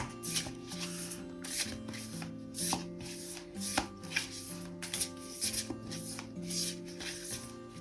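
Tarot cards are shuffled in quick repeated riffles, a soft rhythmic flutter of snaps recurring about once a second over faint background music.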